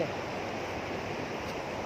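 Sea waves wash onto a large, wide beach in Brunei in a steady, continuous hiss of surf, with some wind and no distinct voices.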